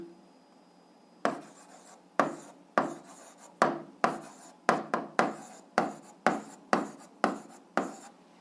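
Pen or chalk scratches out algebra equations by hand in a run of about ten short, rasping strokes, each separated by a brief pause, close and moderately loud, with no talking.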